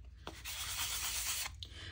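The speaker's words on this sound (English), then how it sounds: "I like this soft sanding block." A soft sanding block rubbed across a playing card to dull its sheen, a quiet, steady scraping rasp lasting about a second between brief light touches, close and faint with no speech.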